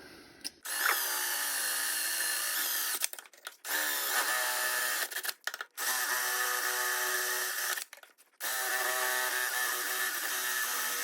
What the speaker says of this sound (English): 3/16 drill bit. You don't want to plunge too deep on this one